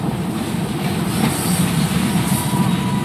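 Train in the video game Assassin's Creed Syndicate, a loud continuous rumble of rolling wheels and carriage noise with faint clatter, steady throughout with no voices.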